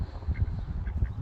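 Ducks quack softly in several short calls while being fed crumbs outdoors alongside swans, the sound fairly faint and close with a steady low background rumble.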